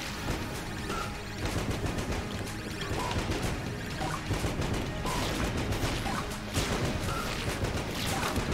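In Enter the Gungeon, the Mahogany gun fires pine cones in a rapid, dense barrage, a steady stream of overlapping shots and clattering impacts that keeps up loudly throughout with no talking.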